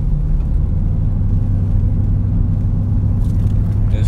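Nissan Titan pickup truck engine while driving, a steady low rumble and road drone from inside the cab, even and continuous with no talking.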